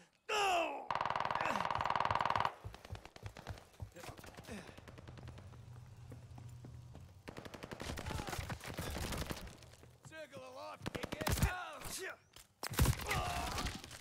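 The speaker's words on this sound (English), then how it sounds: "They're sending mortar shells." Mortar shells and heavy weapons fire in Call of Duty Vanguard, arriving as loud bursts and rapid rattling volleys with scattered booms, over a dense battlefield background with muffled voices.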